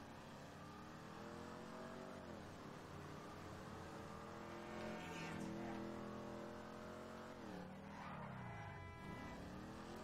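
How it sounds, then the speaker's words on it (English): A 2015 Mustang GT V8 in GTA5 revs and accelerates through repeated gear changes, engine pitch climbing and dropping steadily over about ten seconds, fairly quiet and with no talk. "really pushing this car and really enjoying it so far here in the game"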